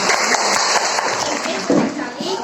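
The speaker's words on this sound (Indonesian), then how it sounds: "Tepuk tangan" Brief burst of clapping from a class of schoolchildren in a classroom lesson, mixed with young voices and chatter.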